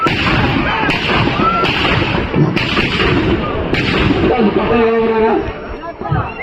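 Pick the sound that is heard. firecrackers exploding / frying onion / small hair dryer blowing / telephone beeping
firecrackers exploding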